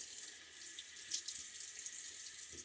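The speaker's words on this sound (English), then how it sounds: "Add a little bit more water to the brush." Tap water running to wet a shaving brush at a sink, a steady hissing stream, fairly close and continuous, with no talk.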